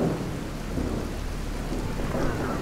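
Thunderstorm in the video game Fallout 4: steady heavy rain pours with a deep rolling thunder rumble underneath, continuous and fairly loud, with no talking.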